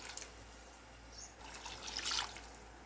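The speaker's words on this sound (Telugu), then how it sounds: "నేను శనగపప్పు నానవేసిన వాటరే కొంచెం పోస్తుంది." Chana dal soaking water poured into a cooking pan for a spring onion and chana dal curry, a soft trickle and splash that swells louder toward the end.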